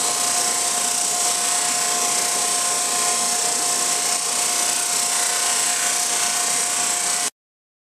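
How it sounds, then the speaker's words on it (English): A power sander with fine 120 to 150 grit sandpaper works a guitar top, a loud steady high whine with a constant motor tone that cuts off abruptly at the end. "I would say the sandpaper I have on there is about 120 or 130, somewhere in there. Maybe 150. So it's pretty fine for a sander like this."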